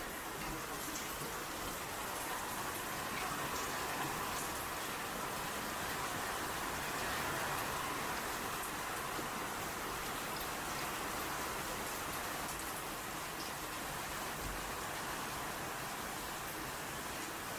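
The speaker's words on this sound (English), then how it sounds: "the water's just overflowing. That's a lot of water coming in." Heavy rainwater overflowing blocked gutters and pouring into a sewage trench, a steady dense wash of splashing water that continues unbroken throughout, close and fairly loud.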